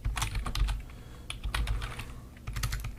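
Typing on a computer keyboard while entering a chart sheet name in Excel, with quick clusters of close, crisp key clicks broken by short pauses and no talking.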